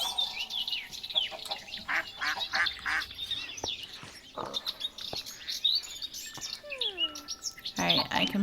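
A mallard duck in a magic-themed Minecraft modpack animal sanctuary, with quacks and bird chirps among chattering calls, fairly loud and close, plus a few sharp clicks and a descending whistle-like tone near the end.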